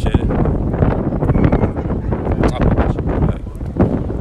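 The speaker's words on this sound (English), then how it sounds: "It's windy out here, bro." Strong wind buffets a microphone outdoors, producing loud, gusty low rumbling and rustling bursts that fluctuate continuously, with a voice speaking faintly underneath.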